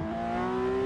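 A Porsche engine revs in the Assetto Corsa driving simulator, a steady, loud, buzzing engine note that climbs slightly in pitch over one second.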